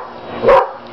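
A dog gives a single short, close bark in the middle of an otherwise quiet moment outdoors.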